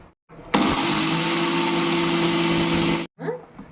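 A kitchen mixer grinds dry mustard seeds into powder: a loud, steady electric whir with a grating rattle that starts abruptly, holds for about two and a half seconds, then cuts off, followed by a brief restart.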